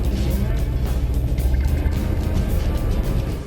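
Stock Ford F-150 truck in two-wheel drive dragging a weighted sled on a baseline pull, engine a loud rough roar that holds steady throughout.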